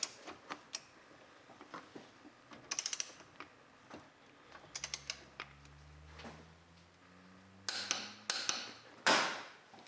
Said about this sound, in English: Just snug it with your 16mm socket, and then you want to torque this bolt to 40 foot-pounds.